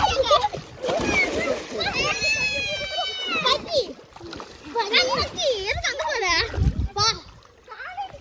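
Kids jump and swim in water while learning to swim, making repeated splashes and churning water with children's excited voices and shouts over the top throughout.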